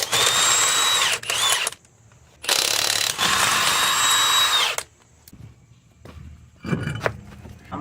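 Power tool, probably an impact gun, spinning off 22mm lug nuts on a Ford E350 van wheel: two loud close bursts a few seconds apart, followed by quieter clinks and handling of the loosened nuts.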